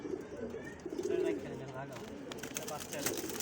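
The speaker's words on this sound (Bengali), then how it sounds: "খুব সুন্দর একটা মাদি কবুতর বড় সাইজের" A large female pigeon gives soft, low coos at close range, partly mixed with a person talking nearby over a quiet background.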